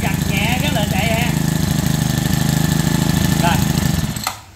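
A four-stroke Mitsu TL231 grass trimmer from Japan runs at a steady, loud idle for about four seconds, then cuts off abruptly and goes quiet, with a voice talking over the engine.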